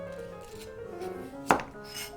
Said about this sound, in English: Cut the onion in half. Remove the root part and cut into 6 wedges.